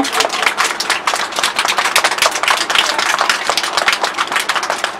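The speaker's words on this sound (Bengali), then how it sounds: "আচ্ছা, এবার সবাই আরেকবার হাততালি দাও সবাইয়ের জন্য" Children at an art academy prize distribution applauding everyone, a steady burst of rapid, overlapping handclaps, close and lively, continuing for several seconds without talk.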